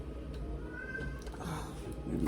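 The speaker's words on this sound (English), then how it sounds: "Aries, that's the older cat." The older of the household cats gives one faint, drawn-out meow, barely rising above a steady low background rumble.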